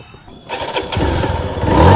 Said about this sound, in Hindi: सिंगल प्रेस में ये बाइक स्टार्ट हो जाती है।